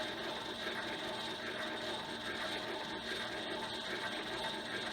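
A cylinder phonograph's mechanism turns empty, set to the speed for a 4-minute cylinder, giving a steady close mechanical whir with a faint continuous ratcheting texture and no voices.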